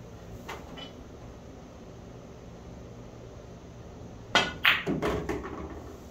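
A pool cue strikes a ball on a bar table, followed by a quick cluster of sharp knocks as the ball runs around several cushions, close and clear over a steady room hiss after a long quiet stretch.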